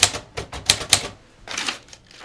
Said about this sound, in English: I can't really type normal on this.